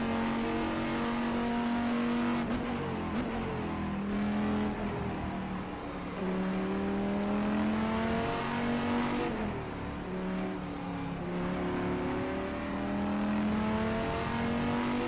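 BMW M6 GTE race car engine in rFactor 2 at Sebring, a loud, continuous, near engine note that climbs through the revs and drops back at each gear change, with no talk over it.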